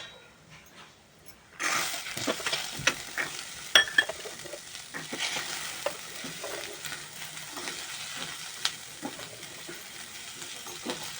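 Freshly washed vegetables for a Maharashtrian bhogichi bhaji hit a hot pan seasoned with red chilli powder. A loud sizzle erupts after a quiet start, then crackles steadily with occasional stirring scrapes, and no one speaks.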